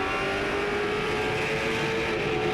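Late model stock cars roar together around Langley Speedway, a dense, steady engine drone with no break, loud and close throughout.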